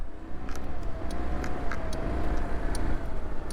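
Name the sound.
car driving on road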